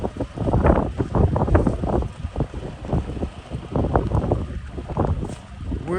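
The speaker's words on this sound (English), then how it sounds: "Very, very windy gusts, heavy winds." Strong winter blizzard wind in Long Island City, New York, buffets the microphone in rough, uneven gusts, roaring loudly and easing off briefly before surging again.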